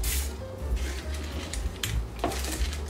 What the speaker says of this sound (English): I give it a little baking spray to stick